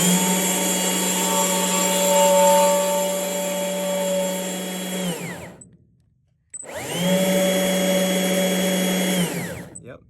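A Stihl MSA 140 C battery-powered chainsaw runs with a steady, close electric whine for about five seconds, stops briefly, then runs again and winds down.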